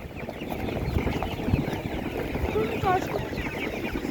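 Ducks and other poultry quack and cluck amid the busy hubbub of a livestock market in Nadvirna, with a few short calls over constant crowd noise.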